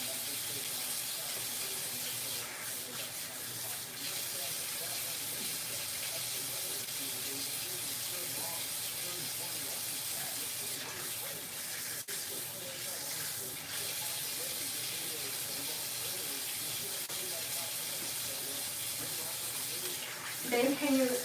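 Tap water runs into a kitchen sink, rinsing suds off dishes, a steady soft hiss and splash continuing throughout at low level, with a faint clink near the end.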